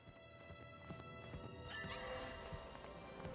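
A horse or pony in the video game Lego Star Wars, with steady clip-clop hoofbeats over a continuous layer of game music and effects.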